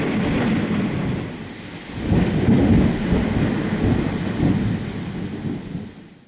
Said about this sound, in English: Hear my thunder roar!